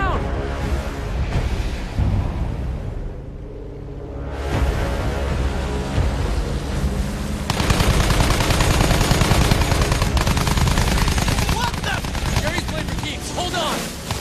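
Battlefield 1 cutscene gunfire against German attackers, dense rattling bursts of machine-gun fire and rapid shots that pause briefly, then return harder and louder, with shouted voices in between.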